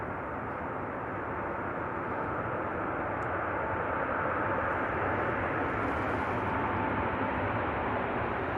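An Emirates airliner rolls out after landing at Manchester Airport, its engines giving a broad, steady roar heard from a distance that swells slightly as reverse thrust builds.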